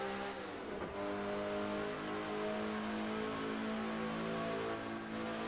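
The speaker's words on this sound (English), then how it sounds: "Oh, that engine, though." Car engine in the Test Drive Unlimited 2 racing game: a loud, sustained high rev with a strong steady tone, climbing briefly near the start and holding at full throttle.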